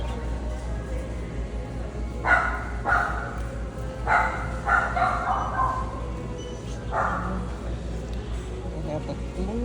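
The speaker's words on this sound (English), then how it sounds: "Someone's dog is barking." A dog barks in short bursts inside a PetSmart pet store, several yips a little distant, while people talk over steady store background noise.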